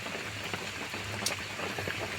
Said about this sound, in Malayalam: അതിഗംഭീരമായ ശകതവും വ്യക്തവുമായ മഴയാണ്